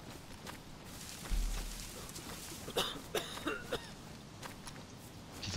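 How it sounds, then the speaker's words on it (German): A few short, rough coughs, fairly faint, sound in quick succession over background noise during a session of the survival game DayZ on Xbox One X. "Dieser dämliche Husten."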